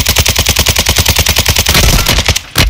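A fast, steady stream of automatic gunfire from a Warzone Resurgence match, loud and close, each rapid shot evenly spaced and pounding without pause for nearly three seconds before a brief stop and one last burst.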